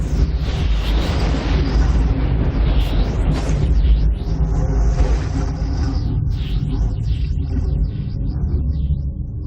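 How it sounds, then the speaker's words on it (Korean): A deep documentary-style rumble stands in for a thunderstorm inside Jupiter's Great Red Spot. It rolls continuously, loud and heavy, with booming low swells and crackling bursts that fade toward the end. "휘몰아치는 이 구름은 뇌우를 일으킵니다."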